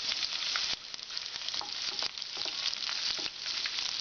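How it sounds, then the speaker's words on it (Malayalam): Chopped ginger and curry leaves fry in hot oil in a pan for lime pickle, a steady close sizzle broken by the scrape and clatter of a spoon stirring. "ഇതൊന്ന് മൂത്ത് വരുന്നവരെ നമുക്ക് ഇളക്കി കൊടുക്കാം."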